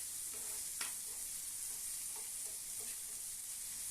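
Onions and tomatoes sautéing in oil for a prawn thokku, a soft steady sizzle with a few scattered stirring scrapes, fairly quiet and close, no voices.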